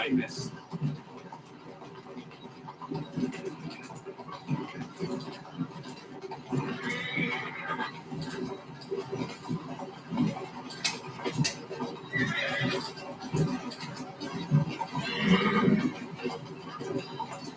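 A horse in Assassin's Creed Syndicate whinnies and snorts several times, with spaced neighs over a bed of game ambience and intermittent talk.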